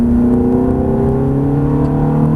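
A Ferrari 430 pulls hard out of a corner on a race track at Prestwold, its engine note steady and loud, then rising gently as it accelerates with no talk over it.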